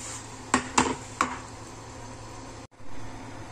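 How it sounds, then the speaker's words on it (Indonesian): Three sharp clanks of a metal pot and utensils, close by, as ingredients go into boiling pumpkin soup, followed by a low steady bubbling hiss of boiling liquid. "airnya sudah mendidih saya masukkan semua bahan-bahannya"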